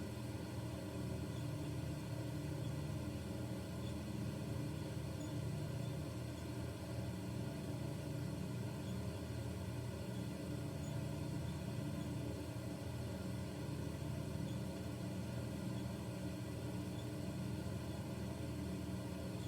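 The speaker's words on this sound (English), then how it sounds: "A couple of big radials just coming along, no hiccups, just doing their job." Steady droning of twin big radial piston engines on a Lockheed Electra in Microsoft Flight Simulator, a smooth, even, continuous hum with no hiccups, moderately quiet and unbroken throughout with no voices.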